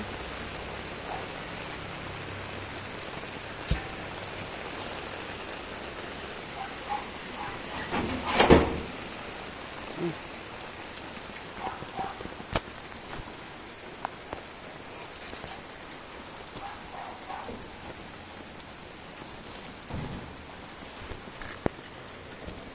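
Steady rain on Siargao, Philippines hisses in the background with scattered drips, broken by a brief scraping knock partway through and a few sharp clicks.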